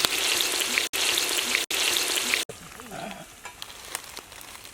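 Chicken with turmeric fries and is stirred in oil in a village kitchen, a loud dense sizzle broken by brief cutoffs, then quieter crackling pops and faint scraping as it settles.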